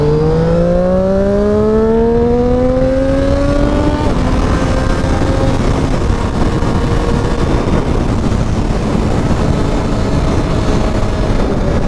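A motorcycle cruising at 80 miles an hour produces a constant loud engine drone with heavy wind rush, its rising tone climbing steadily at first before settling into a steady roar.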